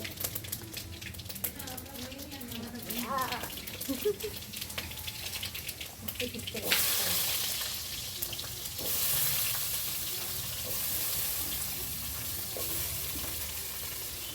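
Spice tempering for a vegetable chorchori with potato, brinjal, beans and spinach stems crackles in a pan, a soft stir-fry hiss that swells into a loud, steady broadband sizzle as liquid hits the hot oil partway through.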